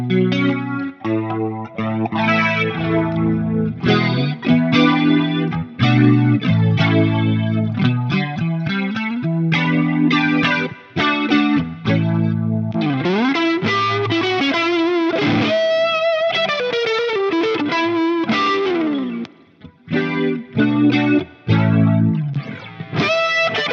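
An Electric Mistress flanger sweeps across a Fractal FM3 1959SLP Treble Plexi Marshall-style guitar tone, with strummed chords and single-note runs carrying a swirling, whooshing modulation, loud and continuous without talk.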